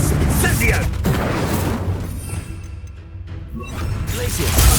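Spells cast in the Hogwarts Legacy video game, dense booming whooshes and crackling impacts that swell, thin out to a quieter stretch, then build again, with a voice speaking over the effects.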